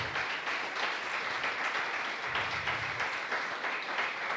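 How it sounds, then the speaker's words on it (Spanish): A church congregation applauds during a Spanish-language sermon, giving a continuous, even spread of many hands clapping that holds steady for several seconds at a moderate distance, without words over it. "Démosle un aplauso al Señor."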